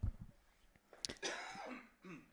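A person coughs a few times in short bursts, then clears the throat with a rough, breathy rasp, close to the microphone on a quiet line with no speech.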